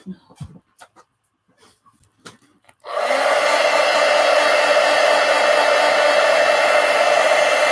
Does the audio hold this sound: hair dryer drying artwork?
yes